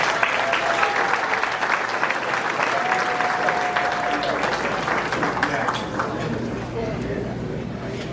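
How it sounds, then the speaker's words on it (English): Audience at a football alumni hall of fame ceremony applauds steadily, a dense wash of many hands with cheering mixed in and a faint tone in the background, tapering slightly near the end. "please give a big round of applause to Mr."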